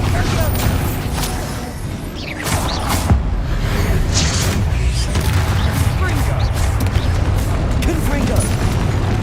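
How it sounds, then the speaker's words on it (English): Bombarda blasting spell cast in the video game Hogwarts Legacy, a loud, continuous roar of booming explosions, crashing debris and rumbling impacts, dense and sustained throughout with no quiet gaps. "Bombarda."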